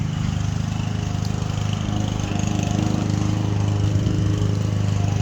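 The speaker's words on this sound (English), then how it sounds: "reciprocating air saw for those tight to reach spots in the pocket" A McGraw reciprocating air saw runs continuously, close and loud, as a fast rhythmic buzzing pulse over a low mechanical drone, with no voices.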